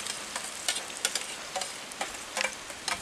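Chopped shallots frying in hot coconut oil in an uruli, a traditional Kerala vessel, giving a soft steady sizzle with scattered crackling pops spread through the clip, heard alone.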